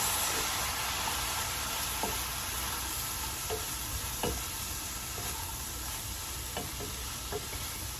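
Bacon cauliflower rice is stirred in a frying pan over a steady, soft sizzle, with occasional light clinks and scrapes of the utensil against the pan.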